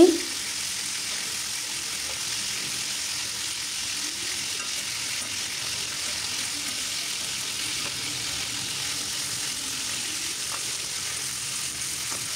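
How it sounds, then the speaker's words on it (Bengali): Chicken pieces sizzling in hot oil while being flipped in the pan, a continuous close frying hiss with faint scrapes and shifts underneath. "এখন উল্টে দিচ্ছি।"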